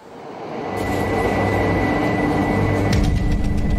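A subway train heading into central Tokyo rumbles and builds from quiet to a loud, steady roar, with a faint whine running through the rolling noise.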